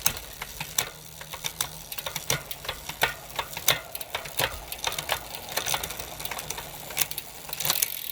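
Rapid mechanical clicks from a SRAM Red mechanical rear derailleur shifting through the gears on a bicycle, sharp ticks spread unevenly over a low whirring drivetrain, close and clear, no talking.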